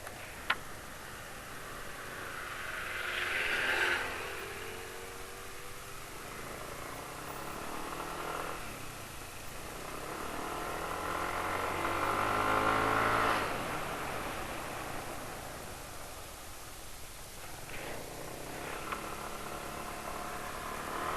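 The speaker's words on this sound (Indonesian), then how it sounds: "Suara mesin udah kasar nih." A rough, uneven motorcycle engine idles steadily nearby, with a few swells in revving and a ticking mechanical undertone throughout.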